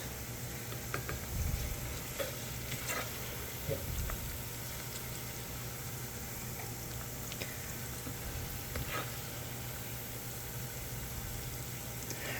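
Venison liver cooking in a pan over medium heat gives a faint, steady sizzle with scattered small pops and crackles, continuous and fairly quiet, with no talking.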